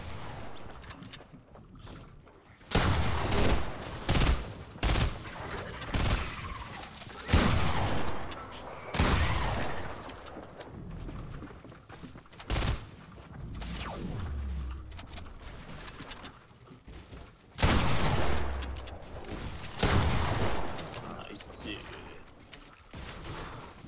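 Rapid pistol fire in a Fortnite match, with repeated sharp bursts scattered across the stretch amid other game noise, while a voice talks over it.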